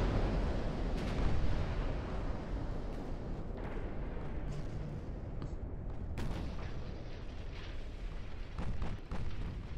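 Naval battle gunfire with a flash fire on a destroyer in the game Ultimate Admiral: Dreadnoughts, a dense continuous rumble of booms and artillery blasts with scattered sharper cracks, no speech.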